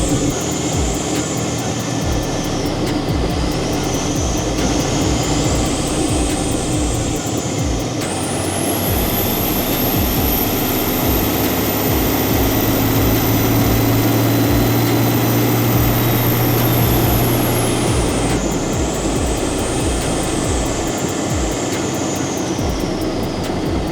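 A third-generation Cummins diesel pickup built for about 500 horsepower drives along at steady speed. Its engine drones loud and constant, a high whine climbs and falls with the revs, and no one talks.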